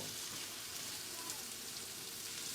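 Crab sizzles in hot oil in a pan with a dense, continuous hiss that stays steady and even throughout, with no voices.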